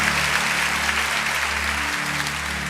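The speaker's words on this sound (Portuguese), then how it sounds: "Aplauda o Senhor." A church congregation claps together in a steady, sustained round of applause that fills the room evenly from start to finish, with no voices standing out.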